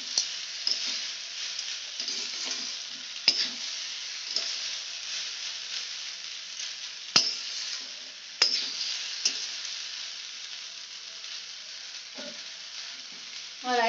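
Fried rice being stir-fried in a kadai at home gives a steady close sizzle with a bright hiss, broken by scattered clinks and scrapes of the spatula against the pan, with no talking.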